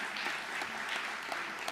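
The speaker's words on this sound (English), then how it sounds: "Shout them out, give them a round of applause." An audience at a community food event applauds the vendors with a brief, steady patter of clapping, moderately close and filling the room, with no speech over it.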